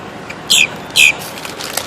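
Blackbirds near the Georgia–Florida line burst into flight around a truck, two quick close wing-flapping flurries followed by faint chirps in an otherwise quiet outdoor setting.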